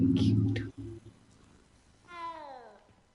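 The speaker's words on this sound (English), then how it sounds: "He's a kitty cat." A cat meows in a clear, rising-then-falling harmonic call near the end, close to the listener, following a brief burst of talk at the start.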